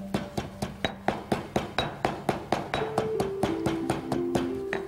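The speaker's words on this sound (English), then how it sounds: "Always pound the coarsest ingredients first and break them down before adding the next ingredient" Coarse salt crystals pounded in a mortar and pestle for Thai cooking: a steady run of about twenty sharp, ringing strikes at a quick even pace, close and fairly loud, with no talking.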